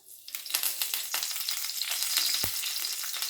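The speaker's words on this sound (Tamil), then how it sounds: "இப்போது வெண்பொங்கலுக்கு தாளிச்சிக்கலாம்." Curry leaves sizzle hard in hot ghee while tempering ven pongal, a loud, dense, crackling hiss that swells as they hit the pan, with one brief knock partway through.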